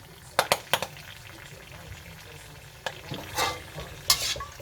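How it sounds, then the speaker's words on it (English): Cinnamon sticks frying in a pan for a homemade chicken curry, with several sharp clacks of stirring against the pan over a soft sizzle, close and fairly loud. "So just fry the sticks until you get an aroma out of them, and ensure that the cinnamon stick actually opens up"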